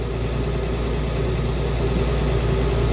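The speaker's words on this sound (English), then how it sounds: "So we can hold the engine revs at a fixed rev," A Deutz Agrotron K610 tractor engine runs at a steady, held rev, giving a continuous loud low drone with a constant mechanical hum and no changes in pitch across the few seconds.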